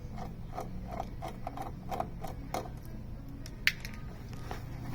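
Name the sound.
unscrewing a tiny T10 Torx screw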